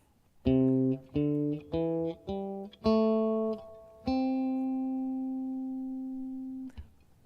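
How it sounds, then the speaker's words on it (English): A guitar plays a five-note major scale up note by note, each plucked clearly, ending on a long ringing note that slowly fades. "what I wind up with is called a major pentatonic scale"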